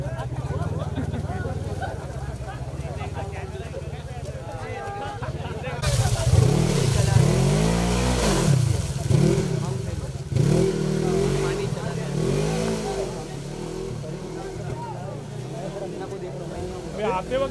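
Off-road vehicle engine at a mud rally, revving in repeated surging bursts that rise and fall, loud and close, with crowd voices and shouting mixed in.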